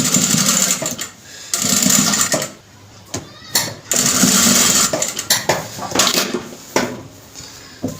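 A sewing machine stitches trim onto fabric for a sleeve and hem design, running in loud repeated bursts separated by short pauses, with faint clinks of handling.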